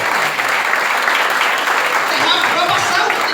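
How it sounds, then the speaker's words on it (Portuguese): Applause from a church congregation fills the space, steady and dense throughout, with a few voices faintly mixed in under the clapping. "Quem pode aplaudir Jesus por isso?"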